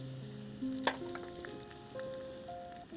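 Garlic, ginger and curry leaves dropped into hot frying oil for a sweet potato paratha recipe, a close sizzle rising sharply as they hit the pan, then crackling steadily without speech.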